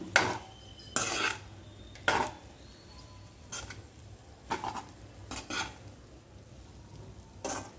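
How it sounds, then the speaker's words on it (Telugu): A spoon scrapes and clinks repeatedly against a pan while egg fried rice is stirred, with bursts of metallic scraping at an irregular rhythm over a faint low hum and no talking. "ఇప్పుడైతే బాగా కలిపేసుకుందాము"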